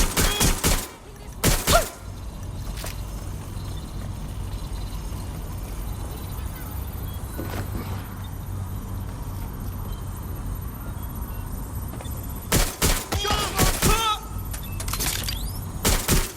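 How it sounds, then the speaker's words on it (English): Gunfire in the video game Watch Dogs Legion: rapid bursts of loud, close shots open the scene, then a long stretch of quiet ambience with a few isolated shots, before another volley of several shots near the end. "Shots fired."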